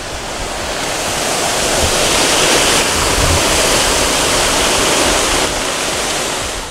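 A tall waterfall on New Zealand's North Island gives a loud, dense, continuous roar of falling water that stays steady and close throughout, with no voices over it.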